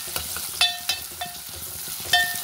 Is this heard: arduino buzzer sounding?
no